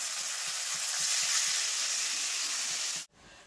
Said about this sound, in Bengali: এবার ঝোলের জন্য জল দিয়ে দেবো।